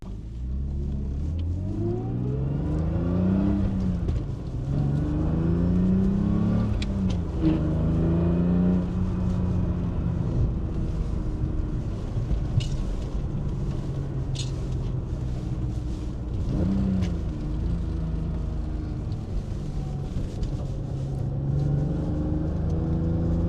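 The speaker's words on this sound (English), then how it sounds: "let me do a little bit of driving and then I'll get back to you guys" A BMW E36 track car fitted with Dinan ignition coils, heard from inside the cabin as it drives hard, the engine revving up and down repeatedly through gear changes, loud and close with a steady drone of road noise.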